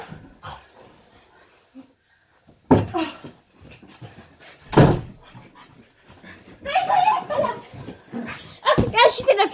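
A dog being chased around indoors, panting, whimpering and yipping in scattered bursts with a door sound, while a person talks over it throughout.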